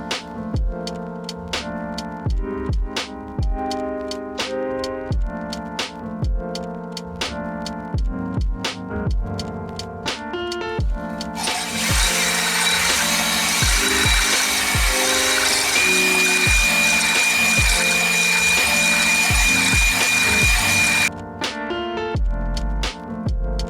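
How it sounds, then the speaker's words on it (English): A power tool hones engine cylinders lubricated with diesel, whirring loudly and continuously for about ten seconds in the middle of the passage, over a steady rhythmic musical background. "apparently that's good enough to lubricate the cylinders while you're honing"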